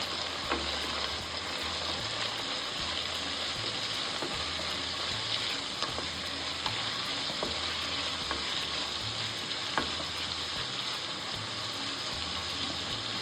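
Onions frying until golden brown for a chicken curry, a dense and continuous sizzle with a low rhythmic rumble underneath, steady and close, with no voices.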